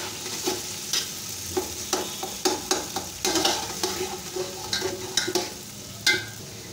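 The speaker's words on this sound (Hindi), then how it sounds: "अब हम इसमें अपने चने डालेंगे, इनको तकरीबन 5 से 6 मिनट अच्छी तरह से भून लेंगे।" Chickpeas stir-fried in a pan with cooked-down tomato masala for chana pulao, a steady sizzle broken by repeated sharp scrapes and clatters of a spoon stirring, close and fairly loud, with no talking.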